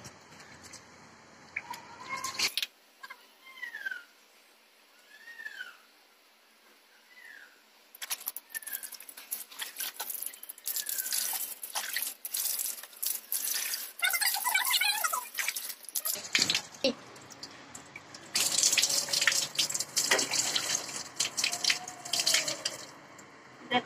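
Water running and dripping while hair is rinsed with rice water, heard as intermittent splashes and trickling with small squeaky chirps, growing louder and more continuous in the second half.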